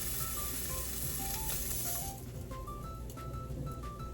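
Beef fillet sears in a pan over high heat, giving a steady, continuous sizzle beneath soft background music.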